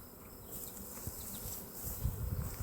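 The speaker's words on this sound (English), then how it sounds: "there is a huge swarm of bees that just got in my yard." A huge swarm of migrating honey bees buzzes in a backyard, a faint, continuous hum with individual bees whizzing past the microphone now and then.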